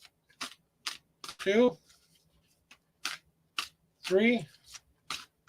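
Tarot cards shuffled by hand during a live reading: short crisp riffling bursts repeat about every half second, close and fairly loud, between a man's spoken counts.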